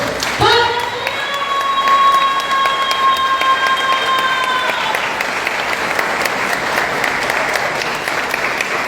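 Church congregation applause for the Lord rolls on as continuous crowd clapping, with a sustained organ or keyboard chord ringing over it for the first few seconds before the clapping carries on alone.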